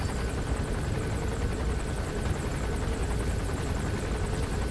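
Helicopter in the video game Metal Gear Solid V, its rotor chop and turbine whine holding steady and loud throughout with no talking.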